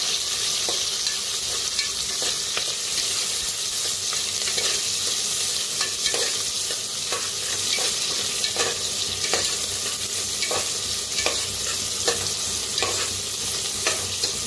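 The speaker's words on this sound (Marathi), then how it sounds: "कढीपत्ता टाकायचा, भाजून घेऊया" Garlic, green chili and curry leaves with onion fry in a hot pan with oil, a steady loud sizzle running throughout, broken by repeated light clicks of a spoon stirring against the pan.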